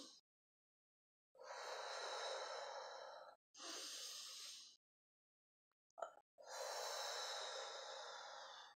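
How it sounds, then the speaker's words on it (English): Three long, deep breaths drawn in and let out one after another, each a broad airy rush separated by pauses of near silence, close and clear with no talking. "Deep breath in."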